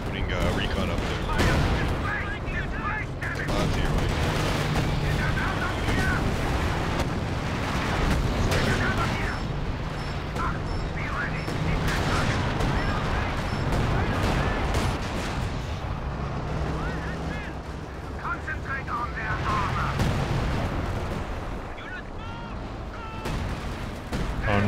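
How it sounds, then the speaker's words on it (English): Artillery shells and gunfire pound continuously through a Company of Heroes 4v4 battle on Hill 400, with dense booms and crackling blasts running the whole time at steady, loud levels. "Getting artillery hits."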